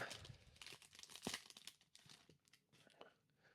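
A One Piece Card Game booster pack wrapper, taped over at the fold, tears and crinkles open in quick close-up bursts, with a sharp rip near the middle.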